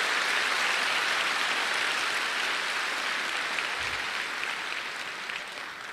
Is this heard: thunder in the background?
no